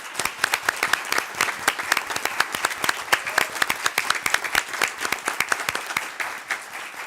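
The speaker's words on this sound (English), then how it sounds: "please, if you'll join me in giving them a round of applause and congratulating them" An audience at a school board meeting gives sustained, even applause, many hands clapping at once in a room for about seven seconds without letup.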